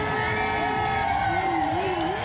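A crowd cheers and whoops continuously at the 30th annual San Francisco Dyke March in the Mission as bikers kick off the event, a dense, steady roar of voices with no break.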